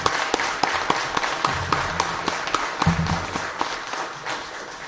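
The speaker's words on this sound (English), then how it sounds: "Let's give a round of applause," An audience at a Republican primary candidate forum claps, scattered sharp hand claps building into brief applause that thins out toward the end, fairly close.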